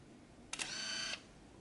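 An analog Canon Ixus APS film camera takes a flash photo: a sharp shutter click, then a faint whirring wind lasting about half a second, heard close in a quiet room.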